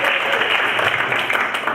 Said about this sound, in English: You deserve that applause.